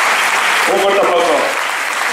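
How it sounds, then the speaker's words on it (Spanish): An audience applauds at a film awards gala in a cinema, a dense, steady wash of clapping with a brief voice rising in the middle. "Un fuerte aplauso."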